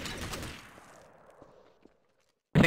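Gunfire in Garry's Mod Trouble in Terrorist Town, a rattling burst of shots with echoing reverberation that fades into a few faint clicks and footsteps, then a sudden loud shot at the very end.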